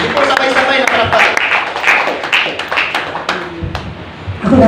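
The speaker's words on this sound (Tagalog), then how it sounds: "palakpakan po natin ang buhay ng Diyos at buhay po ni Mama Mela" A church congregation claps loudly and unevenly during a testimony service, the uneven slaps blending into a broad roar that thins toward the end.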